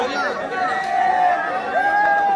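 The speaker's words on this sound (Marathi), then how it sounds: "8 थर मारल्यानंतरचा जल्लोष बघा" A crowd at a Dahi Handi festival celebrating right after a Govinda team builds an eight-tier human pyramid. Loud, dense shouting and cheering voices run throughout, with some high, drawn-out calls standing out.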